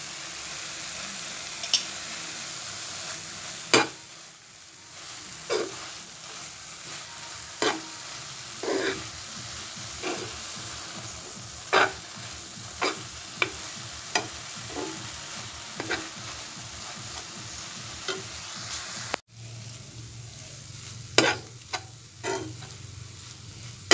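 Grated carrot frying in ghee for carrot barfi gives a steady soft sizzle while a spoon stirs it, with regular scraping taps against the pan, close and moderate.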